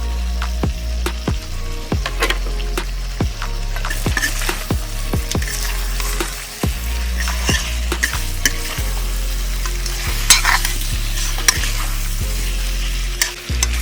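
Duck meat and potatoes sizzle in a pan while being stirred, with regular scraping strokes of the spoon against the pan over a constant frying hiss, close and clear.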